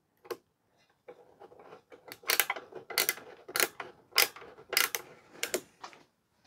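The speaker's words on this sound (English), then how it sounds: "The first screwdriver I grabbed is an old ratchet screwdriver" An old ratchet screwdriver, likely unscrewing brass screws from the junction box of a 1940s selenium rectifier, clicks in a run of close, sharp ticks that bunch into bursts, alone and fairly quiet.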